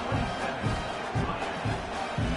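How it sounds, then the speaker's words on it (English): A stadium crowd buzzes in the College Football 26 video game, forming a steady, dense roar with faint rhythmic swells, heard at moderate level with no clear speech on top. "this crowd is buzzing"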